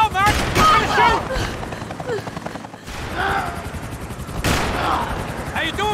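Rapid bursts of gunfire from Max Payne 3, loud and close, in dense volleys with short gaps, alongside a shouting voice and scattered booms during a chase action scene.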